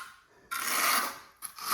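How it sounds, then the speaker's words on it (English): A trowel scrapes across wet floor leveling compound on a sloped basement floor in two short rasping strokes, close and fairly loud with a brief pause between them. "Just put the trowel like this and make it flat."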